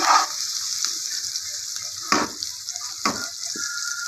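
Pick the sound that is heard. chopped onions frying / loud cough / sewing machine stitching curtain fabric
chopped onions frying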